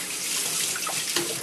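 Water runs steadily to rinse sharpening slurry off a Japanese Nakayama natural stone used with tomo nagura, a close, continuous splashing rush with no voices.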